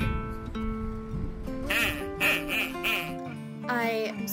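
A duck quacking several times in quick succession, loud and close, with a voice speaking around the calls.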